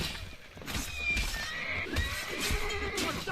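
Horse whinnying and snorting in Assassin's Creed Brotherhood, several loud neighs over hoof clip-clops and game ambience, close and lively.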